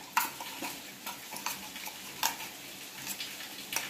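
A spoon stirring methi chappathi batter in a bowl, steady scraping swishes with a few sharper clinks, close and clear with no talking.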